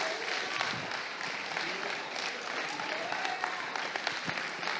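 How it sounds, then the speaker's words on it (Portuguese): Pentecostal church congregation applauding: sustained, dense clapping from many people, steady and fairly full throughout, with voices faintly mixed into the crowd noise. "Fique em pé e aplauda o Senhor."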